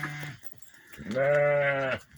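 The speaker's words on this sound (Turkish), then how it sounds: "Evet kuzularımız." Two close bleats from a lamb, a short one followed by a longer wavering cry, nearby and fairly loud.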